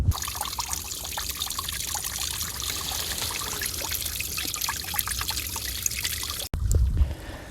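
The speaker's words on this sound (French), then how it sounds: "Il vous suffit de trouver un point d'eau dans la nature, comme par exemple ici." Water trickling and pouring steadily at a natural water source on a hiking trail, a continuous close rushing wash that runs unbroken for several seconds before briefly cutting out and returning.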